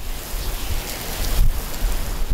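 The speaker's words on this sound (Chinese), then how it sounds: "淡水下午突然出现狂风暴雨" Heavy rain pours down in a sudden afternoon thunderstorm with strong winds in Tamsui, New Taipei, Taiwan, a dense, continuous roar of rainfall with gusty surges building toward the end.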